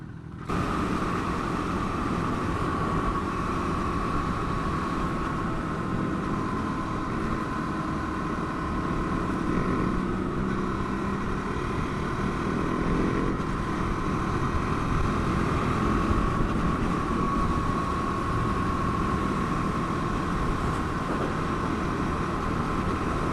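KTM 390 Duke motorcycle cruising in sixth gear at about 60 mph, a steady loud engine drone blended with rushing wind noise that stays even for the whole stretch, with no talking.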